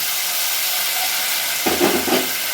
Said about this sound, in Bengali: তেল গরম হয়ে গিয়েছে আমি কাজু কাঁচা লঙ্কা আর পোস্ত পেস্টটা দিয়ে দিলাম